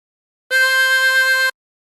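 One sustained blown note of about a second on a tremolo harmonica at hole 9, steady and shimmering with a gentle beating waver, alone in silence.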